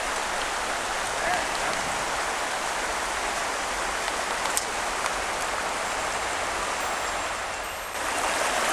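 Water rushes steadily beside a mountain trail near Alhaurín el Grande, a constant close hiss of flowing stream that stays even throughout with no breaks.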